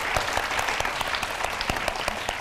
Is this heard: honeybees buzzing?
no